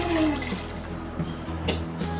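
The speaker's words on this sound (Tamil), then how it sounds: "இப்போ நம்ம தண்ணி ஊற்றிக்கலாம்." Water is poured into a pot of toor dal for sambar, a short splashing gush that tapers off near the end, with no talking.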